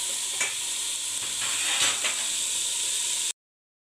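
Vegetables for vegetable biryani frying in a pan with salt, a close, steady sizzle and hiss broken by a few sharp stirring scrapes, with no talking.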